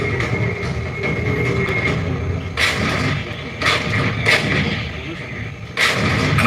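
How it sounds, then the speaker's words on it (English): Several heavy artillery blasts boom at irregular intervals over a steady background rumble, each a sharp, loud report. "The cannon, or artillery gun."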